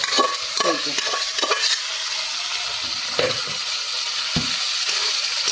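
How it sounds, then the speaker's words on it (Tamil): Boiled mutton frying in hot oil for a village mutton fry, a steady close sizzle with several sharp stirring scrapes of a spoon against the pan, no voices. "அதையும் போட்டு நல்லா வதங்கணும். அந்த எண்ணெயிலே அது சுருவணும்"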